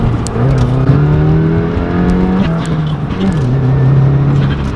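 A Subaru accelerates hard nearby, its engine droning and rising in pitch through several gear changes, with small crackles and pops scattered over the exhaust note.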